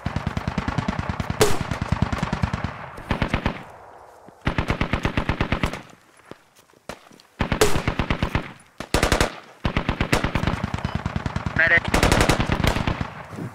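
Bursts of automatic gunfire in the Squad military shooter game on the Gorodok map, several long rattling volleys with short gaps, loud and close, with a voice calling out briefly between shots.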